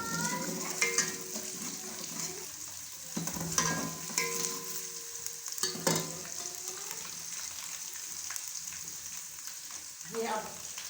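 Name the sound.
ginger and garlic frying and being stirred for achar gosht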